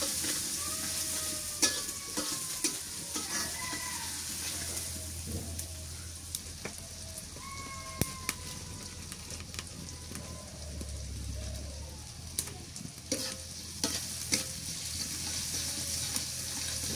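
Chopped onion with nigella seeds fries in oil, a steady low hiss of sizzling with scattered ladle clinks and scrapes, fairly quiet and close, with faint background voices.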